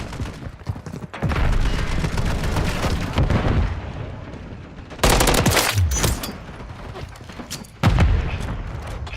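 Bursts of loud automatic gunfire and booming blasts from the shooter game Call of Duty Modern Warfare 3, arriving in several dense volleys with quieter battle noise between them.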